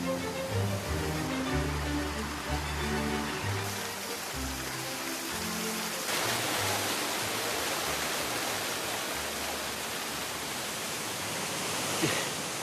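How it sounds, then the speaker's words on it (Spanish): Fountains of the Villa d'Este gardens near Rome, a continuous hiss of falling, splashing water like heavy rain, under soft music in the opening seconds. "El despliegue de agua es increíble."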